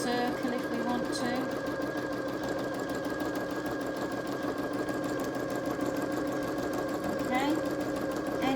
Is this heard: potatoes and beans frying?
no